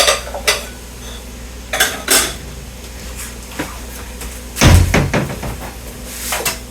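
Lasagna noodles lifted from a pan for a plant-based, oil-free Mexican lasagna, giving scattered clinks and clatters of utensils against cookware, with one louder knock near the end, close by in a quiet kitchen.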